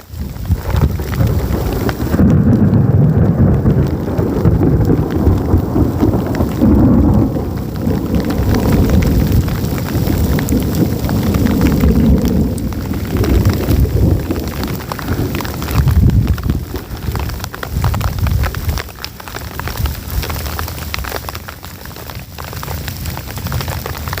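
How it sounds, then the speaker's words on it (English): Low rumbling thunder rolls through steady heavy monsoon rain in rattlesnake country, with gusts of wind buffeting the microphone throughout. "Now you are gonna hear the thunder"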